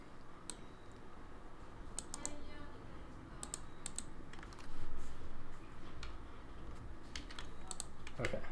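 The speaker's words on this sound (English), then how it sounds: "type in the password" Clicky typing on a computer keyboard while entering a password at a Linux terminal, with irregular bursts of close, crisp keystrokes and short pauses between them over a quiet room.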